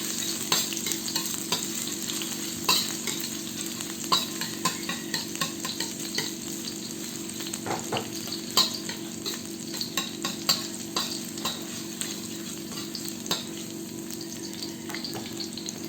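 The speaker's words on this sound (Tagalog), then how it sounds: "kapag mainit na ang mantika, ilagay na natin ang hiniwang bawang." Sliced garlic sizzles steadily in hot oil in a pan over medium heat, a continuous close crackle dotted with brief pops and occasional stirring clicks, with no voices.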